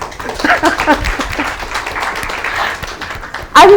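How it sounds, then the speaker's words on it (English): Applause from a conference audience fills the hall as a steady crackling roar under a speaker's voice, then swells louder in the final moment. "Let's give that a big round of applause."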